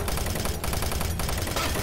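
Rapid, loud gunfire bursts from the shotgun in Doom 3, a dense run of closely spaced booming shots packed into under two seconds with no pause.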